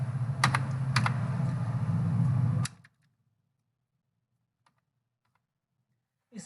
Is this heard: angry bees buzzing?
no